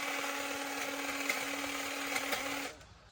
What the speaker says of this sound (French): Ça je vais le faire avec le taille-haie thermique.